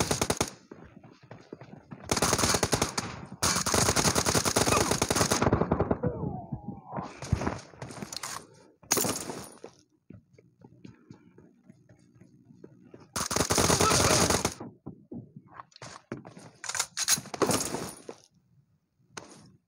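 Bursts of automatic gunfire in PUBG, a team match, come in long loud volleys separated by quieter gaps filled with scattered clicks, shell-like jingles and footsteps.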